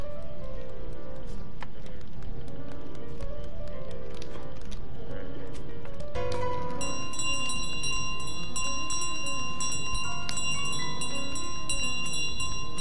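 A bell in Untitled Goose Game rings with bright, sustained, overlapping tones through the second half, layered over continuous game music and other effects.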